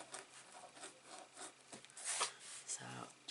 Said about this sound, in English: And give that a good rub as well.